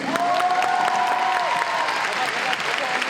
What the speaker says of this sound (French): que vous fassiez un tonnerre d'applaudissements pour ma actrice de choc et de charme